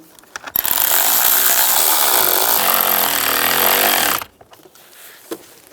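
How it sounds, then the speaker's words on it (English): Power tool driving screws to secure a new HVAC blower motor in a 2005-15 Nissan Xterra, one loud continuous whirring run of about four seconds, close, with quiet handling noises before and after. "Get these screws started. And tighten them down."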